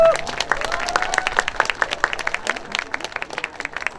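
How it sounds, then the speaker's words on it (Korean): A crowd applauding at the opening ceremony of the Guryongpo snow crab and red crab festival in Pohang, brisk clapping that is loud at first and then thins, with a sustained horn note briefly at the start. "박수 부탁합니다"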